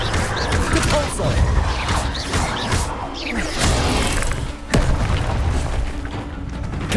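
Repulso spell cast in the Hogwarts Legacy game, producing dense booming magical blasts and crashes amid a chaotic combat mix, loud and continuous with a sharp burst near the middle.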